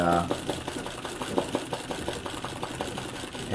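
An embroidery sewing machine stitching a Christmas tree design runs in a steady, fast mechanical patter of needle strokes, close and continuous, under a person talking.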